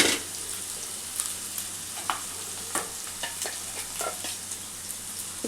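Paste for a Telangana-style fish curry fries in a pan with a steady close sizzle. A utensil stirs it with frequent light scrapes and taps, and no one talks.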